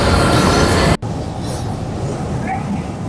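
Riding the LRT light rail train in Manila, with a loud, steady rumble of the moving car and rails, a sudden brief drop, then continued rolling noise with faint squeals and muffled voices nearby.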